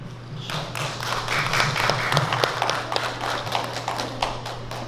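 Steady audience applause at a greeting ceremony for a Korean folk dance department, rapid overlapping claps over a constant low hum, moderately distant and fairly soft.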